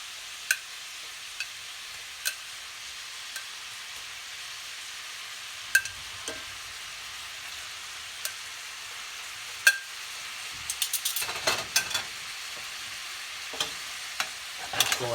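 Lobster tails fry in a spicy honey garlic sauce. A steady sizzle runs throughout, with sharp pan taps and clinks. A flurry of stirring scrapes comes near the end, close and alone without speech.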